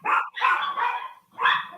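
Dogs bark from somewhere nearby, two sharp woofs followed by a third after a short pause, moderately loud with no talking over them.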